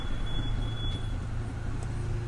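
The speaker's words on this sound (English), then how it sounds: "I think that was my car making the squeaking sound." A car driving in traffic gives off a thin, steady high squeak for about a second over constant low road rumble, then fades out.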